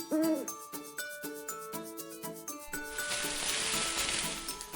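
Cartoon owl hooting on a farm in a children's animation, a couple of wavering hoots up front over light music, followed by a steady sizzling, rubbing noise.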